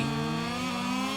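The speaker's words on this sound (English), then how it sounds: "Touches in, revs up for the Japanese Grand Prix." A Moto2 motorcycle engine in the MotoGP 22 video game drones at high revs on the grid at the Japanese Grand Prix in Motegi, a steady, loud, tonal buzz with no talk.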